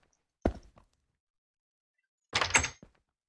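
A door is placed in the Minecraft video game, giving two short wooden knocks: a soft thunk, then after a pause a louder, slightly longer clattering thud. Silence surrounds both.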